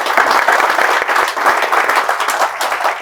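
An audience at a financial app launching event bursts into loud, close applause, a dense continuous clatter of many hands with a few sharper individual claps standing out.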